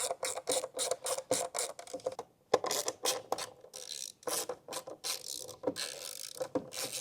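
A ratcheting screwdriver backs out two small Torx T10 screws holding the indicator module of a BMW G90 M5, giving rapid close clicking bursts in quick repeated strokes with brief pauses between turns.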